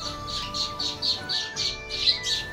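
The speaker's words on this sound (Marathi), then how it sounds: "एकदम झाडं इथे पक्षीच ना चिवचिव आवाज" Birds in trees on a village farm, a string of repeated bright chirps and squawks in a steady rhythm, fairly close and clear over a quiet background with no talk.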